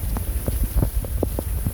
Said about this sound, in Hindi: तूफ़ानी बारिश फिर से स्टार्ट हो गई है